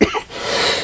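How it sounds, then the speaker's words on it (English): A person gives a short, harsh cough up close at a comic book show, one quick burst followed by a brief rasping tail. "Coughing my head off here."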